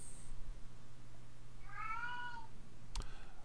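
A cat gives a single soft, distant meow over a faint background hum, followed by a brief click.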